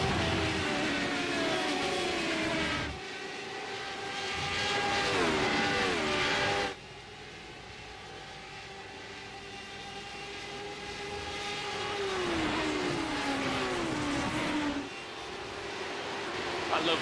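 Race car engines roaring in the iRacing sim, several cars passing with rising and falling pitch sweeps, loud and continuous with abrupt cuts between passes.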